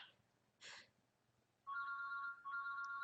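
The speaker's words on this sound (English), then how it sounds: "It's my phone going, I don't know if you can hear it." A mobile phone rings with a repeating electronic ringtone, two bursts of steady tones after a brief quiet noise, heard fairly faintly in a quiet room.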